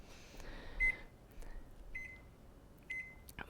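A kitchen timer being set for pasta beeps several times, short faint electronic bleeps spread at uneven intervals over a low background hum.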